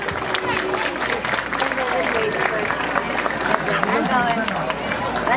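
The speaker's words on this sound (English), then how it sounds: "Round of applause again on Rick." A crowd applauds at a police canine demonstration during a Night Out event, with steady clapping mixed with outdoor crowd noise and voices, close and continuous throughout.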